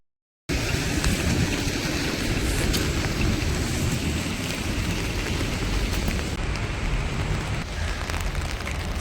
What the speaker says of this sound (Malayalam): ഇന്ന് സ്നോഫോൾ അല്ല, മഴയാണുള്ളത്